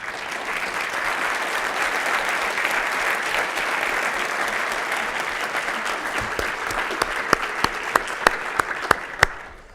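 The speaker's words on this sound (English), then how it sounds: "I would like her to stand up and take your applause" Sustained applause from a large crowd fills the room, thinning toward the end into a few last loud, isolated claps.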